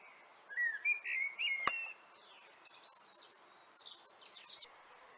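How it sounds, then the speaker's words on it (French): A blackbird sings from a branch above a spring garden, with clear fluting phrases and a sharp click partway through. Higher twittering notes follow, moderately near and alone. "Le merle n'a pas de temps à perdre. Il se place sur une branche dominant le jardin et chante à tue-tête"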